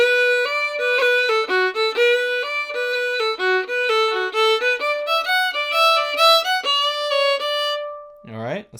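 A solo bowed string instrument plays the second line of a folk tune in a lesson, a clear run of sustained and quick melodic notes with a brief noisy sound at the end.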